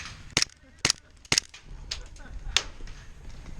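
Glock G17 airsoft pistol shots during an outdoor game at an airsoft field: three sharp snapping cracks in quick succession, then fainter distant pops amid outdoor ambience, fairly close.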